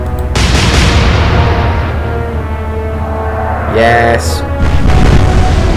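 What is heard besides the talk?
naval gun salvo firing in the Atlantic Fleet video game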